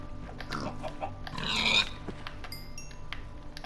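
A pig in the game Minecraft gives a short grunting oink near the middle, moderately close, over low steady game background with a few faint tones afterward.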